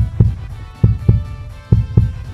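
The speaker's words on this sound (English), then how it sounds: "This is where our heartbeat comes in." A synthetic heartbeat sound effect in Mario Tennis 64 thumps in low, close double beats, paired pulses repeating at a steady rhythm over a faint hum.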